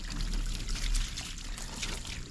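Water poured from a container splashes down to rinse herbicide off onto a gravel driveway, a close, steady gushing pour that swells briefly and carries on without talk.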